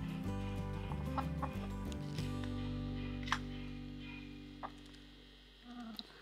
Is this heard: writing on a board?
no